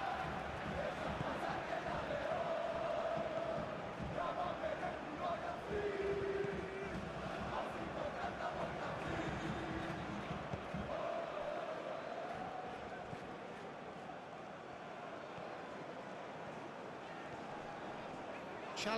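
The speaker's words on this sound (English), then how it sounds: "the crowd clearly liked what they just saw" A football stadium crowd roars and cheers through a European Conference League match, a dense, loud wash of noise with a commentator talking over it, easing somewhat partway through.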